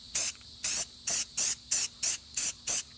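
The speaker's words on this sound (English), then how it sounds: "Give it a quick spray." Eight short, sharp hisses from a spray paint can marking hole positions on metal parts, evenly spaced bursts about every third of a second, close and loud with brief silences between.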